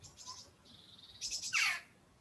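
Seagulls calling outdoors near a garden, a few faint high squeals and a sharper cry at the end, at a distance.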